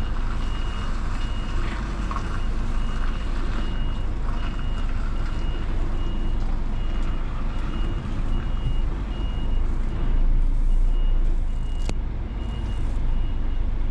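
A truck reversing on a roadside by a ditch, its steady high reversing beeper chirping at an even pace over a loud continuous diesel engine rumble close by.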